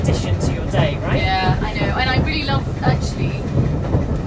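A train running on rails with rhythmic clattering and squealing wheels, steady and fairly loud, while a person talks over it.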